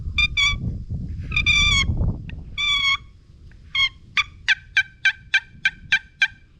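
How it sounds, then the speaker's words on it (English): A series of sharp, high yelps from a turkey box call, first in loose bursts, then a steady run of evenly spaced single notes over a low rumble. "I love this box call"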